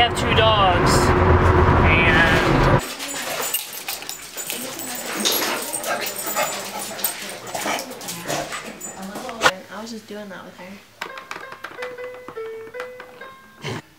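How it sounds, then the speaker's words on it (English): Two dogs whimper and bark at close range, with loud music at the start and people talking over the yips and whines. "They have two dogs."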